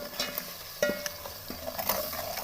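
Turmeric, salt and other spices roast in a pan with oil, giving a steady sizzle broken by quick scraping strokes and metallic clinks of a spoon against the pan, close and moderately loud.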